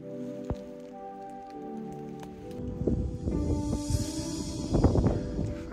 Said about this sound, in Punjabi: ਹਵਾ ਤੇਜ਼ ਹੋ ਗਈ ਆ, ਮੀਂਹ ਵੀ ਤੇਜ਼ ਆ